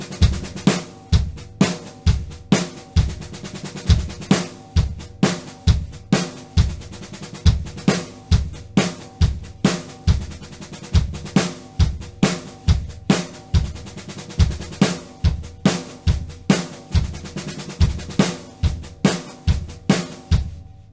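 A drum kit plays a 13-stroke roll pattern, with steady quarter notes on the bass drum under fast sixteenth notes on the snare and sharp accented hits in a tight, repeating rhythm. The kit is loud and close, with no talking.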